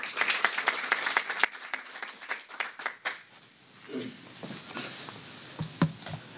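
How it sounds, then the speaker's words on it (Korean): An audience at a UNESCO forum session in Jeju claps to welcome a speaker to the podium, a modest round of scattered hand claps that thins into sparse individual claps and small room noises. "큰 박수로 맞이해 주시기 바랍니다"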